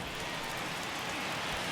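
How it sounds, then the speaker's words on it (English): Heavy rain in the MLB The Show 21 baseball game, a steady even wash of downpour noise that holds at a constant level throughout, with no talk. "That's as hard as I've seen it rain all afternoon"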